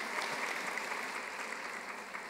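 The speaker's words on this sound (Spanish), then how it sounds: "un aplauso para nuestra panelista" Brief, fairly soft applause from an audience at a panel session on adolescents' expectations, a steady wash of clapping with no break.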